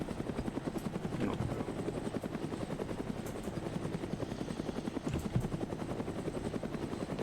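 A military helicopter in the ARMA 3 combat game drones with a steady, loud rotor thump that holds throughout, alone and without voices.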